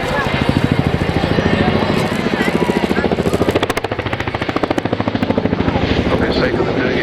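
An RAF Chinook twin-rotor helicopter flying a display routine at an airshow, its heavy rhythmic rotor thudding loud and continuous throughout, with engine whine underneath and a commentator talking over it.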